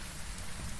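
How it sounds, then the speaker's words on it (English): Severe rain in the ghost-hunting game Phasmophobia, a steady, dense hiss of heavy rainfall on surfaces, continuous and fairly loud, with no voices. "Oh, it is severe rain."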